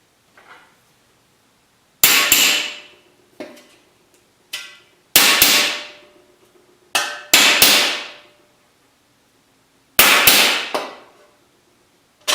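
A hammer strikes a chasing tool as it creases the flange of a reverse-curve car fender along a tape line. The sharp metallic blows come one or two at a time at irregular intervals, each with a ringing decay, and no one talks.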